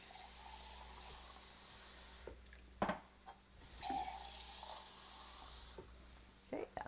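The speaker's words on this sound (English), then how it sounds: "what I'm going to do is just put some water in the cans and then clean out the cans here" Water from a tap splashes into cans in a kitchen in short, faint pours and rinses separated by pauses, with a few clunks.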